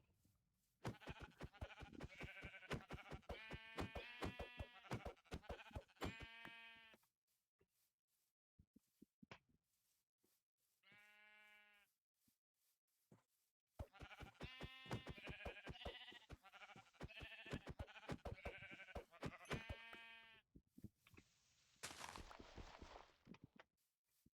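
Minecraft sheep bleat in short wavering bursts, several calls in a row, then a gap, a lone bleat, and another cluster. Soft footstep-like taps and a brief noisy burst near the end break the quiet.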